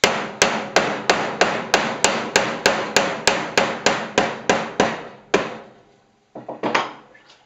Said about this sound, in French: On finit d'enfoncer tranquillement au marteau.